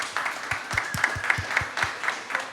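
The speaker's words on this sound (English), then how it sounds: "Let's please give them a big round of applause." An audience at a panel event on AI startups gives a round of applause as four founders come on stage, a moderate spread of hand claps with regular sharp hits, fairly close and steady.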